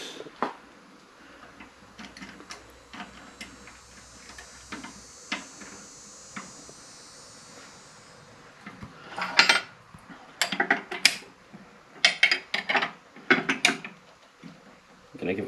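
Metal washer and reverse-thread arbor nut being fitted back onto a table saw arbor before mounting a dado stack, heard as close, sparse metallic clicks and clinks that turn into a busier burst of ratcheting scrapes and taps toward the end.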